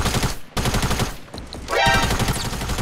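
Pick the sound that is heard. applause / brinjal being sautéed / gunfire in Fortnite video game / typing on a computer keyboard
gunfire in Fortnite video game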